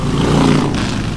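A third-generation Toyota 4Runner with a new engine revs steadily through a loud, rough exhaust, a dense continuous roar filling the whole moment without talk.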